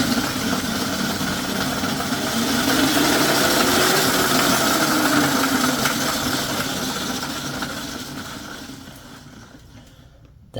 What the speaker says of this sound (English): It spins in the correct way, but the motor is shaking like it's about to come off.